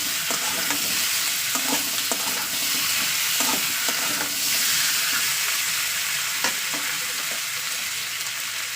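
Potatoes fry in oil with a loud, continuous sizzle, stirred repeatedly so that short scraping and tapping strokes recur throughout, close and without talk.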